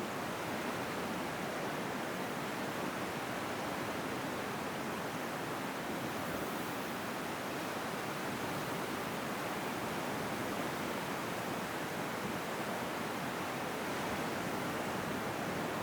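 Steady, even wash of ocean surf, like distant waves rolling in without pause, holding at a constant level for the whole stretch with no voices over it.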